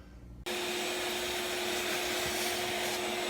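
A shop vacuum switches on and runs steadily, loud and close, sucking up shavings drilled out of a Dodge Ram 4x4 control arm bushing, with a constant roaring whine and no talking.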